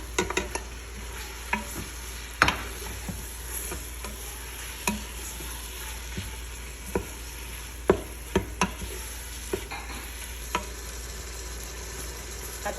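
Chicken sizzles in a pan in a Filipino-style dish with coriander leaves, while a utensil repeatedly scrapes and clacks against the pan as it is stirred, irregular knocks over a steady low fry.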